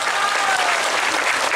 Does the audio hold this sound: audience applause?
yes